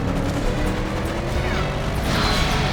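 A car smashes through a gate during a stunt run in the PS3 game Stuntman Ignition, a loud, dense burst of crashing and mechanical clatter over steady engine and action noise.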